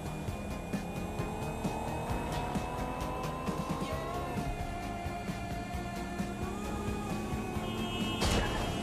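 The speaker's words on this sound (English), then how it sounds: "Are these like all electric cars or something? I think they are. It sounds like it." Electric cars in the video game Watch Dogs: Legion drive past with whining electric-motor tones that rise and fall, plus some tire noise and a brief sharp burst near the end.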